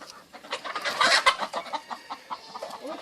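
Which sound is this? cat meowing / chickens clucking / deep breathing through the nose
chickens clucking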